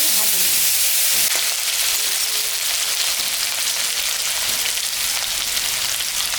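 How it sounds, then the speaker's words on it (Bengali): Potatoes fry in hot oil with whole garam masala, cumin and dried red chilli, a steady loud sizzle that runs without a break and has no voices over it. "কটা আলু দিব, আলুটা আমি ভাজি।"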